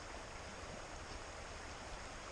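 A small stream, or run, flows near Gettysburg with a steady, faint, even rush of water and no other sounds.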